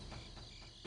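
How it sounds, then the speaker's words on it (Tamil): A mosquito buzzes in a Tamil TV serial scene, a brief, steady, thin whine lasting under a second with a slight swell at the end. "கொசு."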